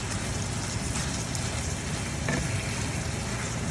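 Pork sausage and ground beef fry with onions in a pan, giving a dense, steady sizzle that crackles evenly and continuously at close range with no voices.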